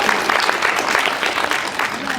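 Fan convention audience applauding in a steady, dense burst of many hands, loud and close, with faint cheering mixed in.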